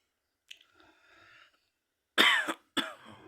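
A pet myna bird imitates a human cough: a faint brief sound, then two loud, harsh cough-like bursts close by, with a short gap between them.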